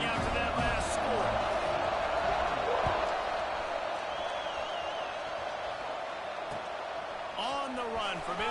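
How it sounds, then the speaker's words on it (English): Football stadium crowd buzzing after a touchdown and extra point cut the lead to 28-21, a broad steady roar of distant voices filling the space, with a commentator talking over it throughout. "this crowd is buzzing after that last score"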